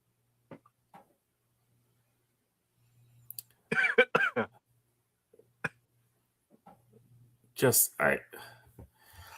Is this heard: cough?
yes